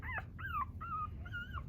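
One-week-old puppies whimper and yip in four short, high whines close to the listener, over a low rumbling background.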